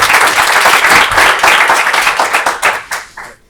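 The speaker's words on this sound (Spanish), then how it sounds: "un aplauso para él" At a meetup on quantum computing with Python, the audience applauds a speaker: loud, dense clapping that holds steady and then thins out and trails off.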